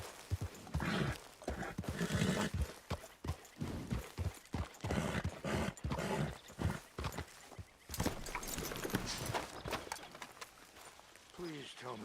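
Horse hooves clip-clop at a brisk run in the open-world Western game Red Dead Redemption 2, a steady rhythmic pounding with occasional snorts, while game characters talk over it.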